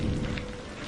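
Steady rain with thunder, a brief dense hiss of falling drops over a low rumbling roll, even and continuous with no voices.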